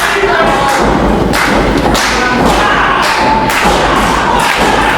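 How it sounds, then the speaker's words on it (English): Repeated heavy thuds of a wrestler's knee strikes driven into an opponent's back at a UWA Elite Civil War show, thumping in a steady run over constant crowd noise in the arena. "Jeremiah with the knee to the back."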